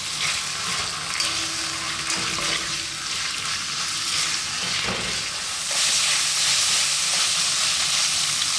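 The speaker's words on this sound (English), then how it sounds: "To that, we're going to add our onions and fresh chili." Chopped onions and fresh chili frying in a pan over above-medium heat, a continuous hissing sizzle that swells louder partway through and stays strong to the end, with no speech over it.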